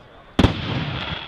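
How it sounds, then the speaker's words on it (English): A firecracker bursts at an outdoor fireworks show, one loud close bang followed by a lingering crackling rumble, with chatter from spectators in the background. "Firecrackers."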